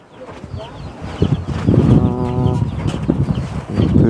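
Chickens cluck around a rural yard where a hen sits on hatching eggs, short clucks and a brief drawn-out call mixed with people talking and handling noise nearby.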